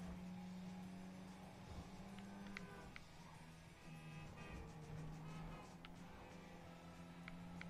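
A car driving in the GTA video game gives off a steady, quiet engine drone with a sustained low tone and faint tyre and road noise throughout, with no talking.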